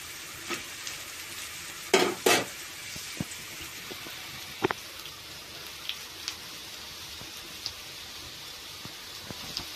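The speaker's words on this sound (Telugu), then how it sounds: "చూసారా చక్కగా వేగిపోతున్నాయి." Bitter gourd pieces frying in a little oil, a soft, quiet sizzle with scattered crackles and a couple of louder stirring scrapes near the start.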